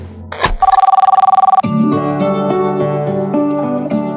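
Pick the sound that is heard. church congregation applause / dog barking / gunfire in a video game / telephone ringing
telephone ringing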